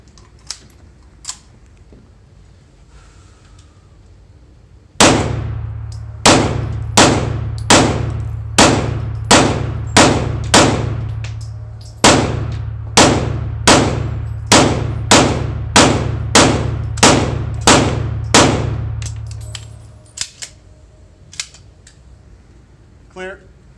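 A CZ 75 SP01 Shadow pistol fires a rapid string of loud, sharp shots at an outdoor range, roughly twenty evenly paced reports with a brief break midway, each ringing out over a sustained low rumble before faint clicks after.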